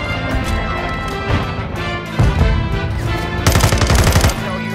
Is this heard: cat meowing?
no